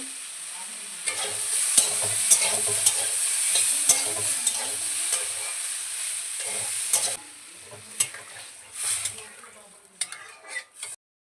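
Vegetable curry cooks in a pan at home, a soft sizzle under frequent clinks and scrapes of a spoon stirring against the metal, with the stirring growing sparser near the end; no one talks.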